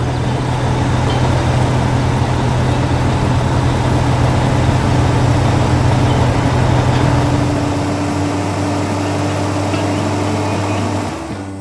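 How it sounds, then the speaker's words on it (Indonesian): Heavy cartoon trucks labor across sandy ground, a steady loud engine drone with a low rumbling hum held throughout before cutting off at the end. "Lihat itu, semua truk sedang bekerja keras di tengah tanah pasir yang menarik dan suasana yang penuh semangat."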